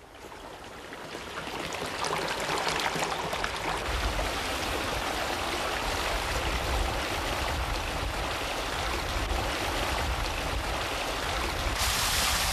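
Steady rushing water pours continuously into a pond inlet, a full broad flow that swells in the first seconds and then holds at an even level throughout.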